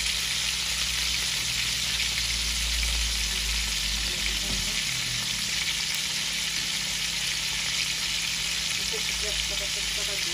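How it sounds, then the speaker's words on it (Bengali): Chicken leg pieces fry in hot oil, giving a steady, close, continuous sizzle and crackle throughout, with a faint background voice now and then. "এখন ভাজা ভাজা হইতে থাকুক।"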